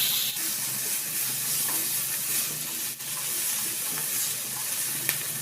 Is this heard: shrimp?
yes